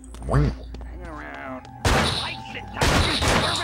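Gunfire in the PS2 video game Pighunt, a few sharp blasts and a burst of shots amid game sound effects, with someone talking over the action.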